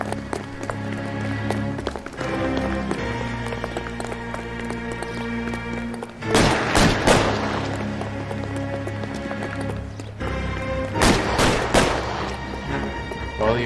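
Gunfire in a detective video game, sharp bursts of shots ringing out in two volleys over a steady background of game music and ambience, fairly loud and close.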